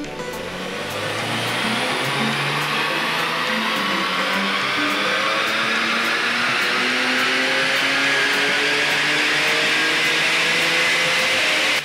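A tuned BMW 335i Stage 3 with a K&N high-flow filter and custom ECU remap revs hard on a dyno, a loud sustained engine howl climbing steadily in pitch, with a broad rushing roar of air and rollers.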